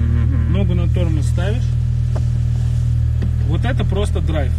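A BMW M5 idles after being started in neutral with the handbrake on, giving a deep, steady engine rumble that runs continuously beneath people chatting nearby.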